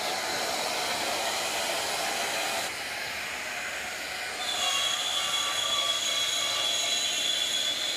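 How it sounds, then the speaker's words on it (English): A router cuts a wooden hinge, giving a steady, loud high-pitched whine with a dense hiss that drops briefly midway, then returns with a sharper tonal edge as the cut continues. "Jake, I'm trying to cut this hinge here."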